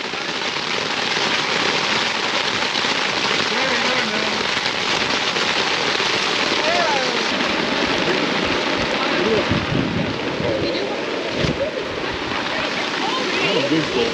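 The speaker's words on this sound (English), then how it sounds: "this tent sheds the rain pretty nicely" Heavy rain pelting and running off a camping tent on an overland trip in Creede, Colorado, a loud continuous dense patter with gusty wind throughout and a few heavier bursts, while people talk in the background.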